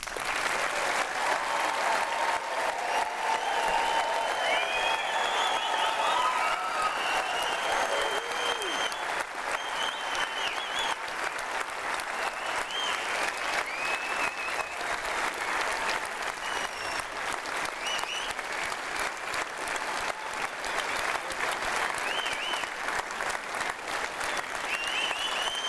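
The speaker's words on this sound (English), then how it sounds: "Please can I ask you to join me in a round of applause." Long, sustained applause from a graduation ceremony audience for graduates of a school of health and society, a dense steady clapping that holds evenly at moderate volume, with a few voices calling out.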